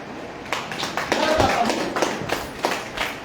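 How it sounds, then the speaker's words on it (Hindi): A small audience claps at a business training session, scattered sharp hand claps in an uneven burst that swells, then thins out, heard indoors with some voices mixed in. "एक बार ताली बजाइए।"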